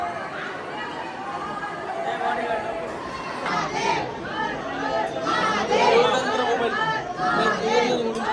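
Dense crowd chatter fills the interior of the Mahakal temple in Ujjain, many overlapping voices steady and close with occasional louder swells, packed and bustling throughout.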